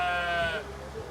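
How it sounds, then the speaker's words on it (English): A single sheep bleats close by in a short, wavering cry that fades after about half a second, out among a crowded flock in Morocco. "While we're making fun of these sheeps here, the shepherds."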